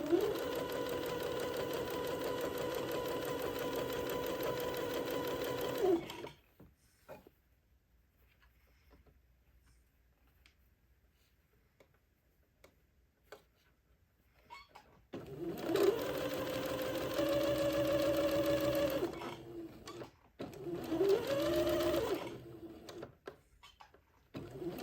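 Sewing machine stitching tiny French seams on fabric whirs in close bursts, running for about six seconds, falling silent for a long stretch, then starting again in shorter runs with brief pauses.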